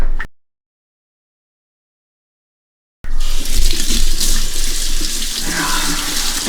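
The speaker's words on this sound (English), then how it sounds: "I need to wash my hands." A running water tap at a sink while hands are washed: steady, loud splashing gush that starts abruptly after a few seconds of silence and continues to the end.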